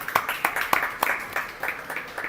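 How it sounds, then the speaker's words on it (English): A small group claps in a quick, regular rhythm after a devotional spiritual talk, the claps crisp, close and fairly sparse over a couple of seconds. "Please, one round of applause for this wonderful answer."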